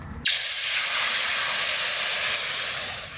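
Water poured into a hot wok gives an abrupt, loud hiss of steam that starts suddenly and holds steady for about three seconds before easing slightly.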